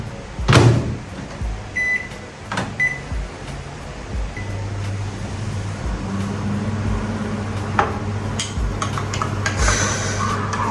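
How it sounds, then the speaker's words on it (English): A microwave oven runs while heating bread in a home kitchen, giving a steady low hum throughout, with clunks and a door-like thud near the start and faint clicks and beeps toward the end. "let me microwave my bread"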